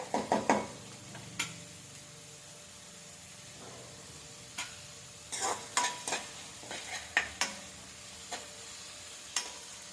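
Onion pieces fry in a pan with a soft, steady sizzle while a utensil stirs and scrapes them in scattered clicks, clustered at the start and again in the second half, for a chicken fry dish; no one speaks.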